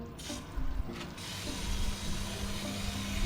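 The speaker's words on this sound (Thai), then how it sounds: "อันนี้เป็นเสียงเครื่องซักผ้านะครับ เครื่องซักผ้าเนี่ย" A household washing machine runs nearby with a steady mechanical churning hum and faint creaks, joined by a constant wash of flowing water that grows slightly louder partway through.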